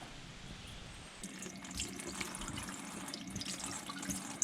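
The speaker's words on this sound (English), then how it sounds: "Just gonna rinse out these flowers." Garden flowers rinsed under a running kitchen tap, a steady soft hiss of flowing water with splashing that grows busier and more uneven partway through, close and fairly quiet.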